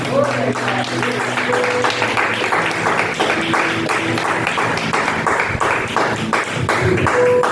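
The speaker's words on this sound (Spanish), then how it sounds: "Denle un aplauso al Señor" A church congregation claps steadily throughout, a continuous loud patter of many hands with voices and tones mixed in beneath.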